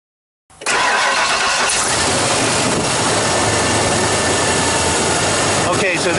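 A Ford F250 running only on fuel injector cleaner cranks and catches after a moment of silence, then settles into a loud, steady close-up idle with a rough, rattling texture.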